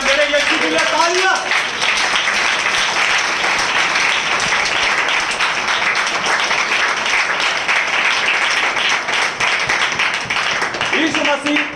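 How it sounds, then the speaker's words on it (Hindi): A church congregation claps for Jesus in a long, loud, sustained burst of applause, with a voice calling out briefly at the start and again near the end. "मेरे यीशु के लिए तालियां।"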